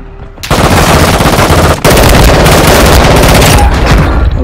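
A continuous burst of automatic gunfire plays in the mobile shooter Call of Duty Warzone Mobile, loud and close. It breaks off only briefly near the two-second mark and then rattles on until the end.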